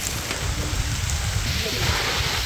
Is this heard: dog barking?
no